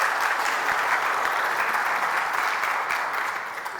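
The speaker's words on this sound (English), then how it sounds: "Why don't you give her a round of applause to welcome her up to the front?" Warm audience applause at a public talk as a guest is welcomed to the front, a full, even roar of clapping that stays steady and eases slightly in the final moment.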